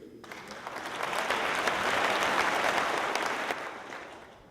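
An audience applauds during a governor's State of the State address, a sustained wash of clapping that swells and then slowly fades, with a few faint voices underneath.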